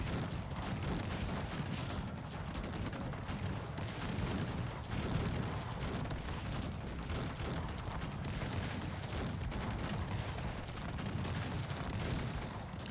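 A large battle in the strategy game Cossacks 3 rages with relentless cannon fire and musket volleys, a dense continuous barrage of booms and crackling shots with no letup.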